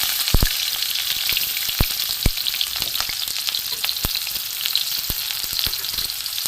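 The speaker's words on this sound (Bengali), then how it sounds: "কড়ায় তেল গরম হয়ে গেছে। এতে আমি পেঁয়াজ কুচি দিয়ে দেবো।" Chopped onions frying in hot oil in a wok, a bright continuous sizzle broken by occasional sharp pops and crackles, close and steady.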